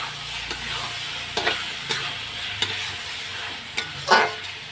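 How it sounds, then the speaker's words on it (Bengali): Boiled potatoes for ghugni sauté in a pan, a low steady sizzle broken by regular sharp scrapes and knocks of a spatula against the pan, with one louder clatter near the end. "এটা এখন আমি ঘুগনির আলুগুলো একটু কষিয়ে নেবো কিছুক্ষণ"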